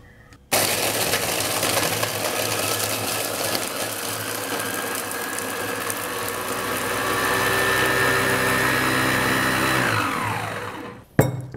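An IDEALIFE Jumbo Chopper IL-219 runs on high speed, a loud, steady motor whine with a grinding buzz that holds for about ten seconds, then winds down and cuts off, close up with no talking.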